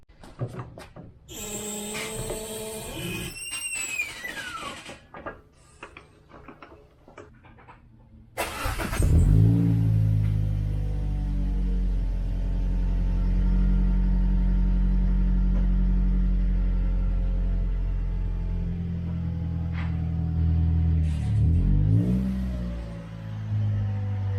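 A Toyota Corolla, just back on its wheels, is heard: a few knocks and clunks give way to a steady, close engine hum as the car drives off and keeps rolling, rising slightly near the end.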